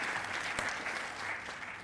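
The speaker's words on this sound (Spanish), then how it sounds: "Un aplauso para él, es un gusto presentarlo." Applause for a speaker at a Mexican Senate panel on open parliament and transparency, a roomful of steady clapping heard fairly faintly and evenly throughout, with no voices over it.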